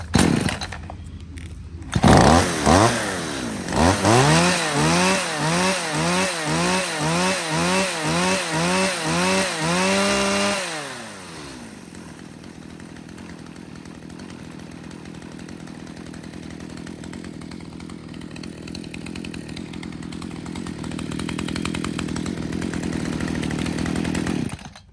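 STIHL chainsaw with a spring-assisted easy-start pull and primer bulb, tuned up, starts with a loud cough and revs in repeated rising bursts, then settles into a steady, lower idle drone.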